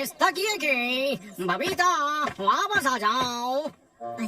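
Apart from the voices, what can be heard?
No everyday noise stands out behind the speech.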